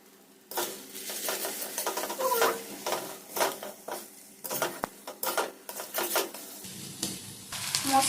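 Spices frying in oil with ginger and garlic in a pan for a katla fish curry, with repeated loud spatula scrapes and stirs over a sizzle, near and busy, no voices.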